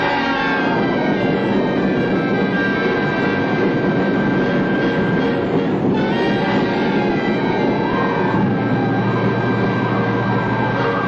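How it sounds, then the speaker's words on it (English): A giant power station generator runs steadily on the line, a loud continuous mechanical hum with a broad low roar and sustained tonal whine, even and unbroken throughout. "another generator has been put on the line"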